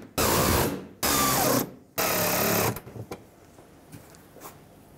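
Power screwdriver driving fender mounting screws on a 2008-2010 Ford F-250 with the 6.4L diesel, three loud whirring bursts of about half a second to a second each, then quieter clicks and handling noise.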